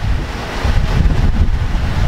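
Strong wind buffets the microphone with a steady roar while waves wash against a sailboat's hull, sailing at about 6 knots in 18 knots of wind off Grenada; continuous and close, no voices.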